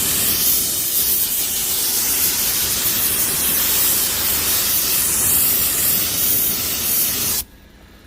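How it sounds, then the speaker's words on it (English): A paint spray gun sprays continuously on a log trailer being repainted, giving a loud, steady hiss that runs for about seven seconds and then cuts off abruptly, leaving quiet room tone. "Spray gun is not. It's not spraying real thick."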